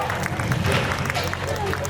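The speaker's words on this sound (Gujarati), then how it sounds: "તો તમામ આ એલઈડી વાળા ભાઈને અને ફોટોગ્રાફર બંને ભાઈને એકવાર જોરદાર તાળીઓના નાદથી વધાવો" Crowd applause at a Sudani, Trada, Tala and Tada family sneh milan gathering in Surat, a steady dense clapping wash with crowd murmur lasting throughout, fairly loud and even.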